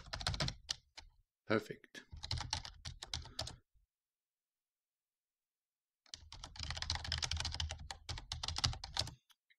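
Fingers typing a password on a computer keyboard, in two bursts of rapid clicking separated by a few seconds of silence; a voice speaks briefly at one point.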